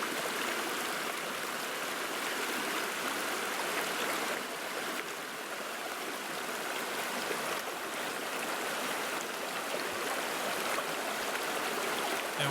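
An Australian creek flowing through a debris-strewn gorge, a steady broadband rush and babble of moving water heard up close, continuous and even, with no voices.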